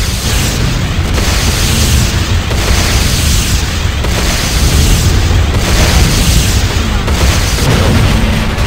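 Heavy explosion rumble from a GDI Weapons Factory being destroyed in the Command & Conquer game Renegade, a sustained loud roar of blasts with repeated booming surges running through the whole stretch.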